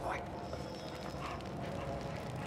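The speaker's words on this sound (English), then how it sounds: "Good dog." A dog in the Mad Max video game gives soft yips and whimpers, close and fairly quiet, under a steady noisy ambient bed with voices nearby.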